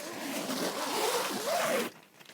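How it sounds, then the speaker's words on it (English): A tent door zip on an Outwell Vermont XLP tent being drawn open in one long continuous rasping pull that stops abruptly, close and fairly loud, with no talking. "2 zips either side"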